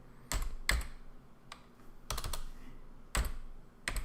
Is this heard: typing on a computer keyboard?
yes